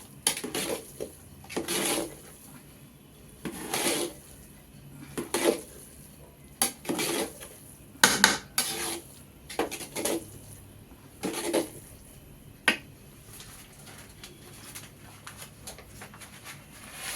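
A spoon scraping and clattering in a metal pan while ghee and edible camphor are stirred together for motichoor laddu, in repeated irregular bursts of clinks and scrapes, close and fairly loud.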